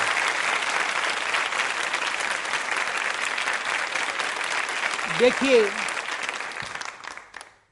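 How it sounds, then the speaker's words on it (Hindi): An audience applauds in tribute at a women's quiz show, with dense, steady clapping that carries through the whole moment before tapering off at the end. A voice briefly speaks over it. "उनको श्रद्धा के रूप में कलाम साहब के लिए तालियां जोरों से बजाइए एक बार।"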